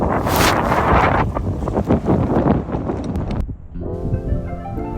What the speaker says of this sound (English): So this is the beginning of the wind starting to pick up.